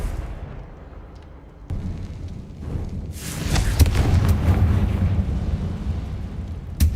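A Confringo blasting spell goes off in Hogwarts Legacy, a heavy boom that swells into a loud, sustained rumbling explosion with crackling debris, building after a quieter lead-in and staying dense to the end.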